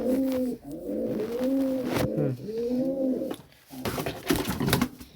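A newly caught pigeon, wounded but alive, coos nearby in several rolling, throaty phrases with short pauses between them, followed by a burst of rustling.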